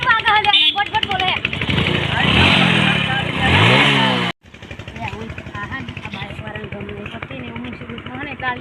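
A modified motorcycle engine revs loudly and roughly, rising and falling in pitch, then cuts out abruptly before a steadier idle-like putter resumes.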